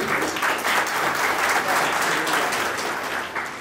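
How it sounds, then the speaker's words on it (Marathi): Steady, dense applause from a crowd at a retirement program, continuous clapping filling the whole stretch at a fairly loud level with no pauses. "इथं जोरदार टाळ्या होऊन आलं सर्वांसाठी"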